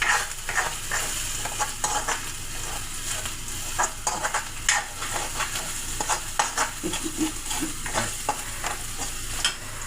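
Crushed ginger and garlic sizzle steadily in hot oil in a pan, with repeated scraping stir strokes and light clinks running through the whole stretch.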